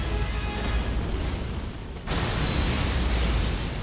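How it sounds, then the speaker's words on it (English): Explosion in the video game Elden Ring, a fiery secondary blast during a boss fight: loud, dense rumbling noise filling the clip with a sharp renewed surge midway, no talk. "there's a secondary explosion for the fire."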